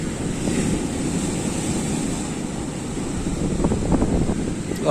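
Rough seas on the new-moon tide at Shankarpur beach, West Bengal, pound the shore in a loud, continuous roar of surf, buffeted by gusting wind noise, with heavier crashes toward the end.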